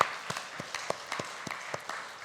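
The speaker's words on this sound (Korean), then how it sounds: "감사하다고 박수하겠습니다" Faint, sparse applause from a church congregation during a Sunday service, individual claps landing irregularly at a distance.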